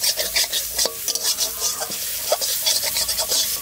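Piring greens stir-fry in a hot pan, a spatula scraping and tossing in quick irregular strokes over a steady oily sizzle, close and clear with no talk.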